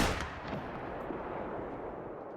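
A single rifle shot fired at an animal in theHunter: Call of the Wild, a sharp report at the start followed by a long rolling echo that slowly fades across open country.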